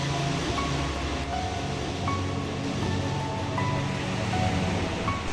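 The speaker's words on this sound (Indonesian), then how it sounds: "Laut lepas, ini adalah laut selatan" Open southern sea of the Indian Ocean breaking on the shore, a steady, loud roaring wash of surf mixed with wind rumble, continuous and without voices.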